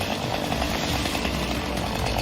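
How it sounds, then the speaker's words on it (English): Chainsaws run by city cleanup crews on a rainy afternoon for a beautification effort, a steady loud engine buzz that fills the whole stretch without pause. "Chainsaws in hand, crews got to work on a soggy Tuesday afternoon."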